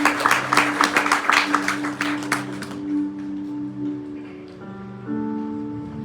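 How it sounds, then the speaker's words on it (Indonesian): Easter service congregation in a church in Karawang breaking into loud, dense applause that fades after a few seconds, leaving sustained organ or keyboard chords ringing on alone. "Berikan tepuk tangan untuk Tuhan Yesus."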